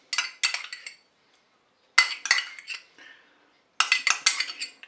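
A spoon scrapes and clinks against a bowl while mixing crab macédoine salad with mustard and mayonnaise, three quick bursts of close clattering stirring separated by short pauses, no voices.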